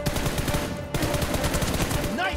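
Rapid machine gun bursts in a battle royale shooter match, dense repeated shots running nearly continuously at close range, with a brief gap near the middle and a faint voice in the background.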